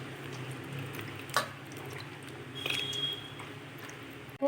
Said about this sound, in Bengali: এবার আমি ময়দাটা ভালোভাবে জলে ধুয়ে নেব